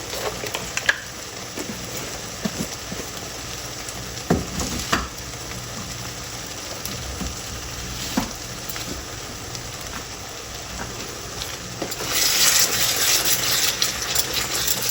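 Spiced gravy with red chili flakes for aloo matar biryani fries in a pot, a steady sizzling hiss with scattered stirring knocks, swelling louder near the end.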